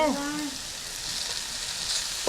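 Tomato, ginger and garlic sauté in a hot pan with a steady, close frying hiss and soft sizzle, and a voice is briefly heard at the start.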